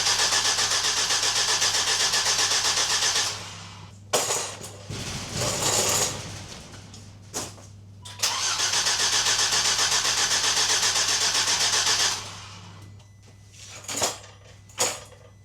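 A Volvo V70 T5 engine cranks and catches, running steadily at a loud idle, then cuts off before restarting and running again, with short mechanical clunks between runs; no voices.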